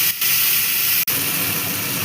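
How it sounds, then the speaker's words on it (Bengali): Spice paste fries in a hot pan with radhuni seeds for a vegetarian fish-style dish, making a steady, loud hiss that drops out for an instant near the middle. "এবার মশলাটাকে একটু ভেজে নেব"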